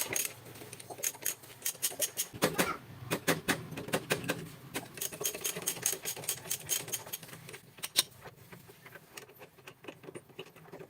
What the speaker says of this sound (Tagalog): kailangan gumamit ng 12mm na socket para matanggal ang dalawang 12mm na turnilyo